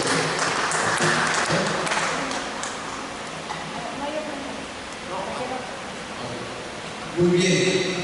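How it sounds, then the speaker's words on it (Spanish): A church congregation at a Wednesday evening service claps together in a dense, sustained round of applause that thins slightly midway, with voices mixed in and a louder burst near the end. "Vamos a darle un fuerte aplauso al Señor"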